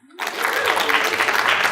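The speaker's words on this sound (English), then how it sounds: "Let's hear a round of applause for folks that are representing academic" Round of applause from a conference audience at a marine event on human rights and fisheries, rising suddenly after a short quiet and holding as dense, steady clapping from many people in the room.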